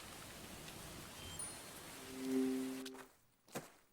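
Rain falling in the video game Murder by Choice: a steady, even hiss of downpour that cuts off abruptly near the end, leaving near-silence with a faint soft knock.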